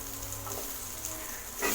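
Spices fry in hot oil in a pan while cooking cabbage sambar, a soft, steady crackling sizzle heard close and alone.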